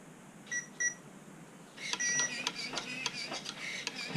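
Short electronic beeps from an RC car's speed controller as it powers up, two quick tones followed by a busier run of chirps and clicks, close and moderately loud with no talking.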